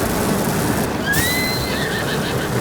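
A horse in Zelda: Tears of the Kingdom gives one clear, rising then wavering whinny over a steady background wash resembling rain.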